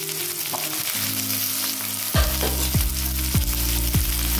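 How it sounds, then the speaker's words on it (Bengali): Garlic cloves, cashew nuts, ginger and onion fry in oil in a pan for a bean kofta dish, a steady loud sizzle with a few sharp stirring scrapes repeating about every half second in the second half. "দিয়ে আমি এইগুলো একটু ভেজে নেব।"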